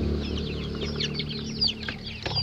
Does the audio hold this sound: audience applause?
no